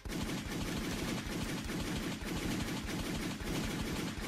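Gunfire in a film scene: a rapid, unbroken stream of shots and blasts, dense and loud throughout, with no one talking.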